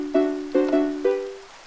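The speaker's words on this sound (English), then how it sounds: "So that is the Mario Overworld theme." Minecraft note blocks play the opening of the Mario Overworld theme: four bright, plucky tones in a short bouncy rhythm, each one decaying quickly, with the last note ringing a little longer.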